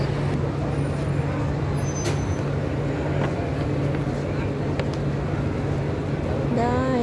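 Busy night traffic on a central Madrid street near Gran Via and Callao, with a steady roar of engines and buses close by, a hiss of air brakes and voices chattering throughout.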